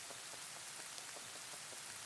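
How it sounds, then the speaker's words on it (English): Steady rain falls in the video game Pocket Mirror, a dense, even hiss of drops on surfaces with faint irregular patters, close and unbroken, with no voices over it. "let's explore the rain, shall we? I'm gonna get wet now."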